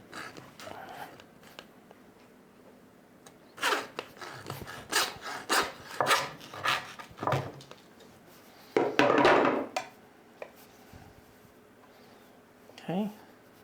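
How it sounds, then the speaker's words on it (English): A hand saw cuts back and forth through the ribs of a butchered Nigerian Dwarf goat, giving a run of loud, rhythmic rasping strokes followed by a second dense burst, with quieter handling noise between. "then we'll use our saw"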